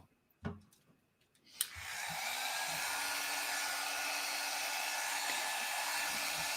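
After a couple of soft knocks and a click, a hair dryer used to dry alcohol inks switches on and blows with a steady, even whir until the end.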